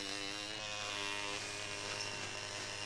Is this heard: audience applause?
no